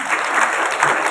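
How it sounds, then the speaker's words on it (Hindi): A crowd at a May Day workers' union rally in Gogunda block claps to welcome a guest, a short burst of dense, loud, continuous applause. "एक बार जोर से ताली से स्वागत करते हैं"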